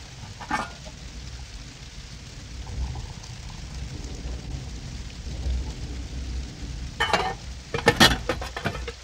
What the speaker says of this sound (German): Es regnet in Strömen.